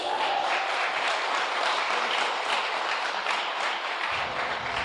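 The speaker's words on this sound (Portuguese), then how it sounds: "Aplauda Jesus." A church congregation applauding Jesus during a sermon: dense, sustained clapping from many people, even and continuous throughout, fairly distant and roomy, with no distinct talking over it.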